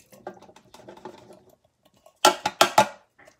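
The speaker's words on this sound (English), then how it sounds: "Next can of beans going in the pan." Green beans tumble out of a can into a pan, with a few soft clinks of metal and then a cluster of sharp, loud rattling hits near the end.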